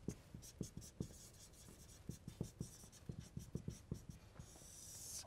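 Pen or marker strokes writing an equation by hand, a rapid series of short scratchy taps and scrapes close up, irregular in rhythm, with no talking.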